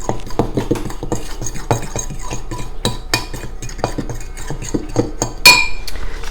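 Cherries and sugar being mixed in a bowl for a cherry crumb pie, heard as a steady run of close utensil clinks and scrapes against the dish with one sharper clink near the end.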